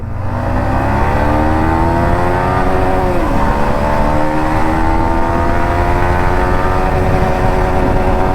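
An NS motorcycle engine revs hard before a race, a loud, close, continuous roar that climbs and shifts in pitch throughout with no talking.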